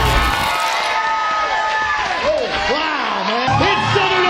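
A wrestling crowd at a Southern All-Star Wrestling show at the Sawmill cheers and yells loudly and continuously, with rising whoops and shouting voices overlapping throughout.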